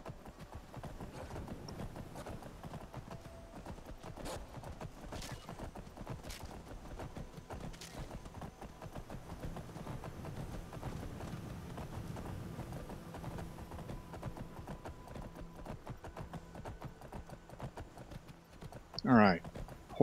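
Horse hooves clip-clop in Skyrim Special Edition, a long, steady rhythm of soft strikes that runs for about twenty seconds, with a louder burst near the end.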